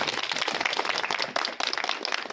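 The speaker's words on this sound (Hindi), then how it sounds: "जोरदार तालियां" An audience at an athletics award ceremony claps loudly and steadily, a dense sustained burst of many hands with a brief dip midway before the applause carries on.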